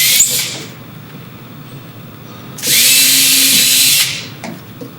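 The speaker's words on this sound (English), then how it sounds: "So I can pre-drill these, depending on what screws you're using," A power drill pre-drills holes for awning screws during a window awning installation: one loud, close whir of about a second and a half, after a brief buzz at the start.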